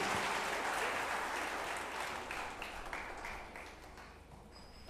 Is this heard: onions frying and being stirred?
no